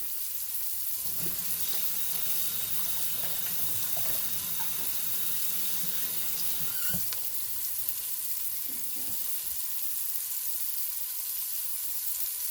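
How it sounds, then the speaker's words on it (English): A kitchen tap runs steadily while hands are washed beneath it, with soft splashing and faint clatter in a home kitchen where patties are cooking, no talking. "let me wash my hands real quick"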